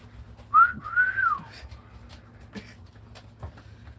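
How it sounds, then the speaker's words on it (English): A man whistles at his wife, a loud rising-and-falling whistled phrase lasting about a second, followed by soft clicks and faint rustles over a low steady hum indoors. "I'm whistling at my wife."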